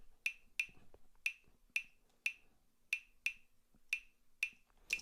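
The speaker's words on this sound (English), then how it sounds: "the rhythm for a 2 clave is notes on beat 2 and beat 3" A programmed salsa 2-3 clave sample plays back in Ableton Live: crisp, bright wooden clicks in a steady syncopated pattern, about ten sharp hits over five seconds, clean and alone with no talking.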